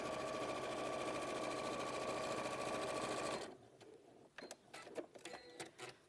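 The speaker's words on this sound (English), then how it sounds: "So I'm gonna sew another line in the edge" A sewing machine stitching a line along a fabric edge, running in a fast, steady whir for about three seconds before stopping, followed by faint clicks and handling sounds.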